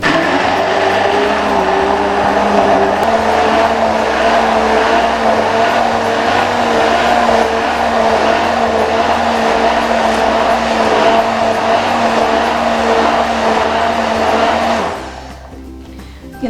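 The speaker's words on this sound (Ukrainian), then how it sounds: "Ще раз все перебиваємо блендером до однорідної маси." A blender whirs steadily at high speed for about fifteen seconds mixing a cherry and sweet cherry milkshake with chilled milk, then cuts off, leaving a faint low hum.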